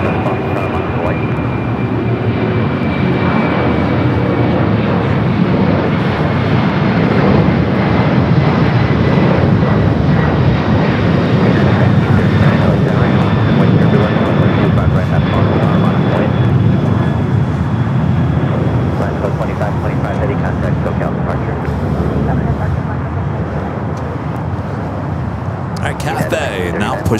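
Jet airliner engines at Los Angeles LAX airport roll steadily near a runway, a loud continuous roar with a faint high whine drifting downward, while voices talk over it.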